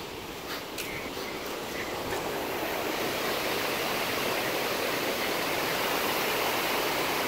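Water jets rush steadily through a dam on the Oka river, a dense, even roar of spray that stays loud and unbroken from start to finish, with no voices.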